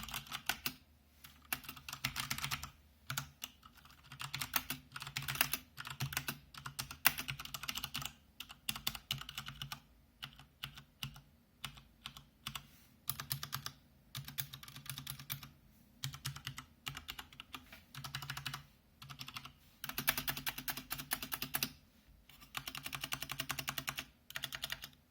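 Steady typing on a Riotoro Ghostwriter Prism RGB mechanical keyboard with brown switches and brown keycaps: dense, close, quiet clacking keystrokes in irregular bursts with short pauses, no voices.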